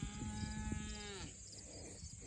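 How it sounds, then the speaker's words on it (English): A cow gives a long, clear moo on a farm, the call falling off after about a second and followed by quieter outdoor background with no talking. "the cows are coming back here"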